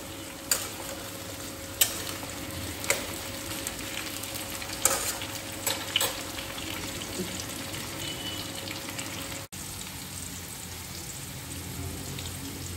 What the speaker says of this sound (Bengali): আমার আলু উচ্ছে ভাজা হয়ে গেছে, দেখুন লাল লাল হয়ে গেছে।